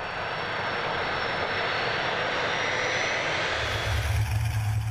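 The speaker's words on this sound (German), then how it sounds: "Das typische Blubbern der drei Triebwerke geht unter im Lärm des Frankfurter Flughafens." A Junkers Ju 52 three-engine aircraft at Frankfurt Airport makes a loud, continuous engine roar blended with airport noise, with a deeper throbbing drone swelling in near the end.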